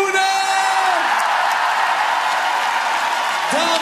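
A large crowd cheers, whoops and applauds the champion Oranjeleeuwinnen, the Dutch women's football team, at their 2017 homecoming celebration. A dense, steady roar of noise lasts throughout, with a few shouts rising above it.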